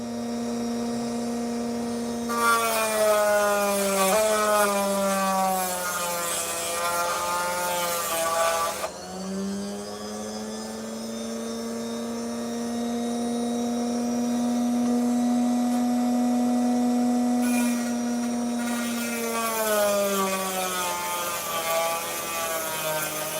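An opal-cutting machine runs loud and steady with a droning, whining motor tone, rising in pitch around the start and again partway through, with no talking.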